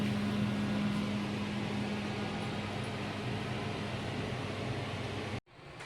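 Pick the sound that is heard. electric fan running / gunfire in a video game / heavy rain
electric fan running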